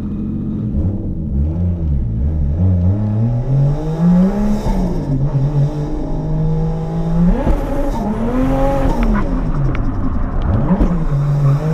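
A Toyota JZX100 Cresta drifts at Ebisu circuit, its engine rising and falling in loud, close revs, with tire squeal and rumble mixed into the sweeps of throttle.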